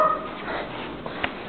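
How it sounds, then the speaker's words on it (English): A dog gives soft whimpers and a few faint yips against a muffled, steady indoor background, with small sharp sounds near the end. "There's a dog."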